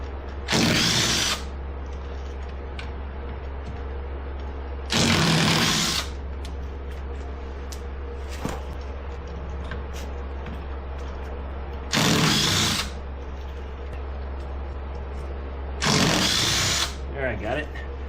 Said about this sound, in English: now I'm going to take the 4 bolts out of this